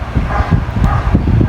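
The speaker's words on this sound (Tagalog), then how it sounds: "May aso tumatahol." A dog barks in short, uneven yaps from a moderate distance, mixed with background hum from an electric fan and a nearby road.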